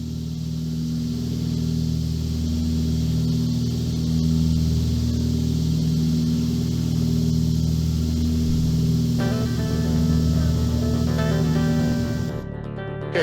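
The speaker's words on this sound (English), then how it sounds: "let's go out listening to the dulcet tones of the IO 470 engines on the Harvey the 310" Twin Continental IO-470 piston engines of a Cessna 310 drone steadily and loudly in a deep, even hum with strong low harmonics, the tone shifting slightly near the end before cutting off abruptly.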